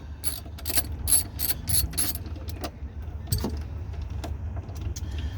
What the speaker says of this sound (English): I'm using an 8mm socket.